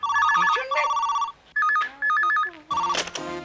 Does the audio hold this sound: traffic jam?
no